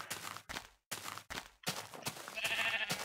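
Sheep bleating in a blocky survival video game, a series of short, close bleats broken by brief silences, followed by a longer cry with a thin high whine layered over it.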